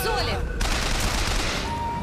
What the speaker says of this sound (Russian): кто это в меня стреляет?